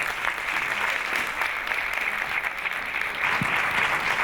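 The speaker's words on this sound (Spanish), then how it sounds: "recibamos con un fuerte aplauso a Joana Ríos" A conference audience claps warmly to welcome Joana Ríos to the stage, a dense, steady burst of applause from a large crowd that holds at an even level without voices.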